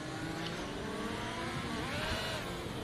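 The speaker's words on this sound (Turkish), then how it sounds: "Arka lastikler ısınsın diye biraz gazlama yapmaya çalışıyorum" Formula 1 race car in the F1 2021 racing game revving its engine to warm the rear tyres, a steady, fairly quiet mid-pitched engine drone that swells slightly toward the end.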